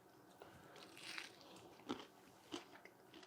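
Crunchy fried oysters are bitten and chewed close up, giving a few soft, crisp crunches spaced over a few seconds, faint and quiet with no talking.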